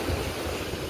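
Sea waves breaking along the shore at Panadura, Sri Lanka, a steady, loud wash of surf mixed with wind rumble that never lets up.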